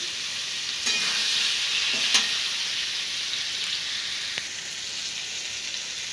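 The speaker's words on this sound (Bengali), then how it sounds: "একটু ভেজে নিই ভালো করে, আমি ভাজছি, গ্যাসটা বাড়িয়েই ভাজছি" Potatoes fry in hot oil over a high gas flame with ground poppy seed and chili paste, a steady broadband sizzle with a few scraping stirs, no voices.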